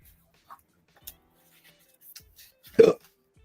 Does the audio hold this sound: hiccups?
yes